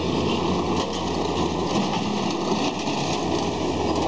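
A tractor engine runs steadily and close by, a continuous droning hum with no breaks or changes in pitch across the whole stretch.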